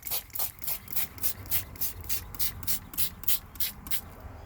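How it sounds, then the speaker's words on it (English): Spray Away mold cleaner and stain remover spritzed onto mold inside a car, a quick series of about fifteen sharp, hissing pump sprays in steady rhythm, close and fairly loud with no talking. "I'm going to spray the mold to kill it."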